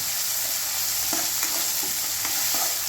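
Chopped tomatoes fry in a pan for aloo rassa bhaji, a constant close sizzle broken by a few soft scraping stirs of a spoon.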